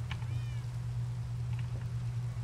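A cat in Minecraft gives a short meow, then a fainter second call, over a steady low game hum with no voices.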